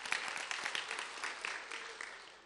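Church congregation clapping during a Sunday-night evangelism testimony meeting in Daejeon; individual claps stand out at first, then the applause gradually thins and fades toward the end.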